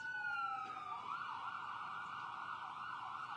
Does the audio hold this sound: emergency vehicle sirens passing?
yes